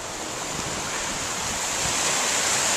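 Sea surf washing against the shore at Cascais, Portugal: a steady, dense hiss of breaking water with wind buffeting the microphone, continuous and close, with no voices.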